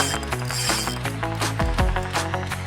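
A fishing reel's ratchet clicks rapidly and steadily, with a loud, close, mechanical buzz over constant background noise.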